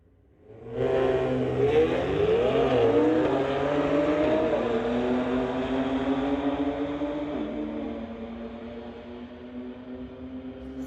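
Street-legal cars launching at a drag strip, engines roaring up to full revs with rising pitch through the gears, then a long sustained drone as they run away into the distance.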